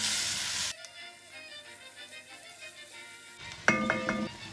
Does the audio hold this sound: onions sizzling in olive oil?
yes